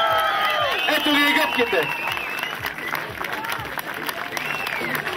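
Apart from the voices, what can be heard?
audience applause and cheering at offroad race award ceremony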